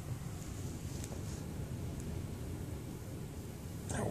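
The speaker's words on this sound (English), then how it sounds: "That wind blowing, isn't it? Rocking the RV." Gusty wind buffets and rocks a parked RV, a continuous low roaring rush with steady pressure against the vehicle, close and uninterrupted, no voices.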